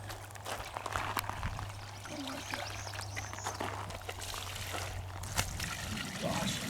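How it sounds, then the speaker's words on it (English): Liquid is poured out to soak the ground around a Liberty safe before a flamethrower test, a steady splashing trickle lasting several seconds under a constant low hum, with no talk. "You can just kind of soak the ground around it a little bit."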